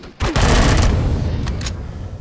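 Gunfire in Empyrion Galactic Survival on a hostile planet, a loud close burst of rapid shots blending into a dense, booming roar that fades slightly, with a couple more sharp reports near the end.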